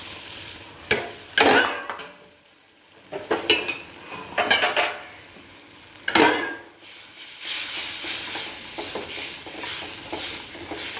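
Sausages dropped into boiling curry and stirred in a pot, with repeated sharp clanks of a spoon against the metal, several bursts of scraping and stirring, and a low simmering sizzle underneath, close and alone.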